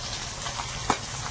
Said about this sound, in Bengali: ওদিকে তো মাছগুলো ভাজা চাপিয়েছি, ওটা হতে থাকুক